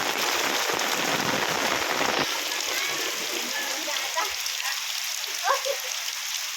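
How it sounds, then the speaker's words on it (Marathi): Heavy rain with wind pours down on a village in a dense, steady roar, heard from a veranda, easing slightly partway through, with a few louder splashes near the end. "एवढा पाऊस जोरात पडतोय"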